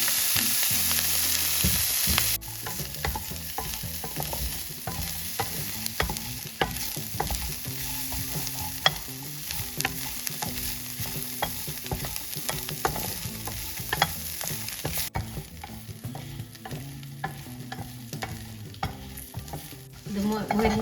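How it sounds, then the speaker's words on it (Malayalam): Dried prawns fry in coconut oil in a pan, with a steady sizzle and repeated scraping strokes of a spoon stirring them, continuous and close for the whole stretch. "അപ്പം നമുക്കിത് മൊരിയാൻ ആവശ്യമായ വെളിച്ചെണ്ണ ഒഴിക്കാം"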